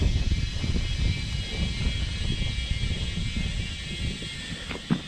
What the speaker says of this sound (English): we've got our air compressor here, so let's see if just basic air pressure can get this guy reseated